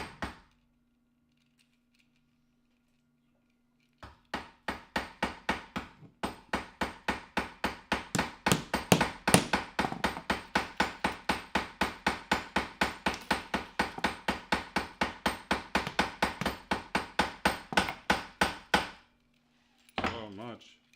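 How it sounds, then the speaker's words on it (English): Hammer blows set rivets into armor gorgets in a workshop, a long, rapid, steady run of sharp metallic strikes close by, framed by a low hum and brief pauses at the start and end. "So much riveting."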